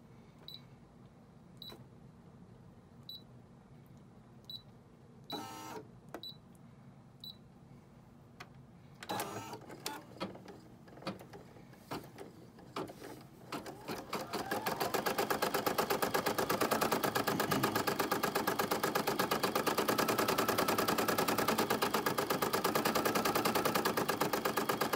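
A sewing machine stitches out a design. Scattered clicks and taps come first, then a loud, fast, continuous mechanical rattle runs steadily to the end.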